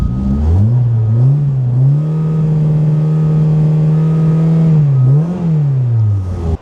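A car engine running on a standalone ECU idles with a steady hum, then revs up and settles, and near the end rises briefly once more before cutting off. It is loud and close, with no talk.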